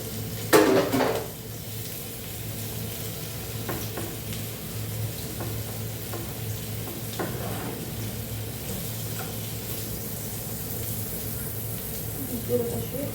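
Sausage fries with onions in a pan, giving a continuous close sizzle with a sharp clatter of a utensil at the start and occasional faint stirring scrapes, while a voice talks quietly at times.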